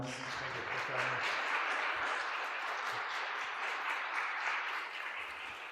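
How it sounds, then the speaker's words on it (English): An audience in a church applauds at the close of an evening gathering, with steady, loud clapping that fills the space and continues without a break. "Let's give him a round of applause."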